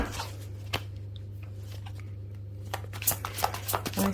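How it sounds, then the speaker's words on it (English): A tarot deck is shuffled close by in brief papery riffles and taps, sparse at first and then quicker and busier toward the end, over a low steady hum. "Going to shuffle once more."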